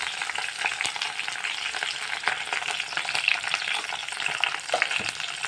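Garlic fries in a pan with a continuous bright crackling sizzle and occasional soft stirring scrapes, close-up and moderately quiet, with no voices.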